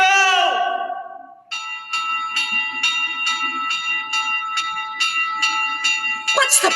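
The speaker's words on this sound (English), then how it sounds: "Ring the bell!" After a strained shouted voice, a bell starts clanging repeatedly in a steady fast rhythm as a stage sound effect in a Macbeth performance, loud and ringing, with another voice breaking in at the end.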